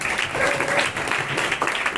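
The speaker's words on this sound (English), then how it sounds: "Okay, a round of applause." A workshop audience gives a brief round of applause, a short burst of moderate clapping from a small group.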